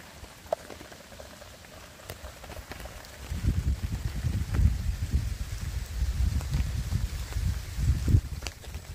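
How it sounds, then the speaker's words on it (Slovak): Sauerkraut soup bubbles in a mess kit outdoors in wind and rain. A low, dense boiling rumble swells after a quieter start and continues steadily, with light crackles and gusty background noise. "Takže teraz to necháme len tak variť, prebublávať."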